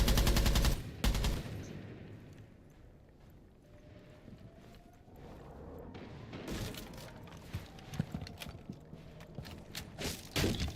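Gunfire in a PC first-person shooter game: loud bursts of rapid shots open the clip, then a quieter stretch, then repeated sharp reports in irregular bursts return toward the end.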